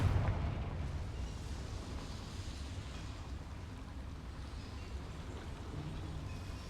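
A Confringo fire spell in Hogwarts Legacy erupts in a deep, rumbling explosion that starts loud and close, then settles into a sustained roaring boom that fills the space, with no voices.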